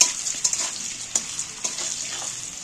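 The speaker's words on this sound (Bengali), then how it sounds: "এবার আমি তেলটার মধ্যে নাড়াচাড়া করে ভেজে নেবো ভালো করে" Potatoes seasoned with salt and turmeric sizzle in hot oil for a fish roe curry, with a steady close hiss broken by several sharp scraping stirs, no voices.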